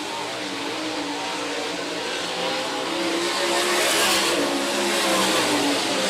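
360 sprint car engines roar around a speedway in a steady, loud, continuous drone that swells slightly as the cars come nearer, with no voices heard.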